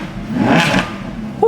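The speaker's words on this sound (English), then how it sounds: "it runs, it sounds epic" The engine of a crashed Lamborghini Huracan that won't go into gear runs and revs once in a short, fairly loud swell that rises and fades over about a second, with a small blip at the end.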